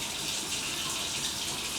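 Water runs steadily from a kitchen tap into a container of warm water for sourdough starter, a constant soft hiss and splash with no talk.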